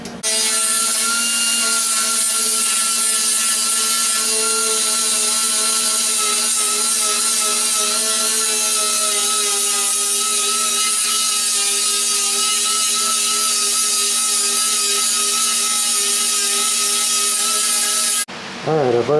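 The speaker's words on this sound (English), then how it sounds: "So now we're going to go back and go in between all of these, grind it down again" Grinder working down welds on the firewall of a 1977 Camaro Z28, a loud, continuous high whine held for nearly twenty seconds before it abruptly cuts off.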